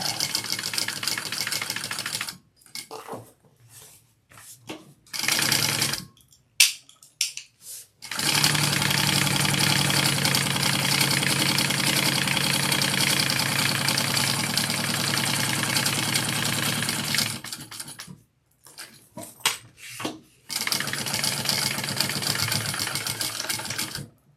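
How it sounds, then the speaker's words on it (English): A sewing machine bastes backpack fabric, its fast close mechanical chatter running in several bursts of varying length, with one long steady stretch and short pauses between runs. "I'm going to go ahead and just baste all of this real quick so it makes this next part easier"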